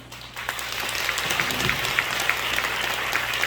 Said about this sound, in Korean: 다시 한번 항상 감사의 박수 부탁드립니다